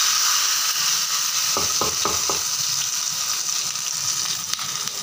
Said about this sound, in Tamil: தாளித்து கொட்டியாச்சு